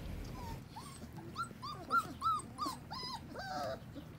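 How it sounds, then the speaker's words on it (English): A Belgian Malinois mother dog growls and whines at her three-week-old puppies during weaning, a series of close, strained whimpering and growling sounds over a quiet indoor background. "do you just growl at them?"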